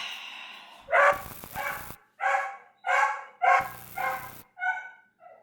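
A dog, recently found, barks and yips close by in a run of about seven loud, evenly spaced barks, some high and whiny, with brief gaps between them and no talk.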